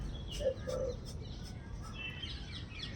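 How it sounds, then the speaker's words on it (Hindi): Outdoor birdsong with a few soft, brief chirps and tweets over a steady low background rumble, the calls distant and intermittent across a few seconds. "पक्षी गीत गाते हैं"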